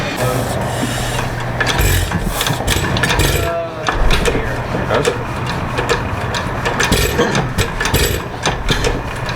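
An antique hot tube engine starts and runs, its steady mechanical chugging and rasping clatter continuing loud and close throughout, with voices talking over it at times.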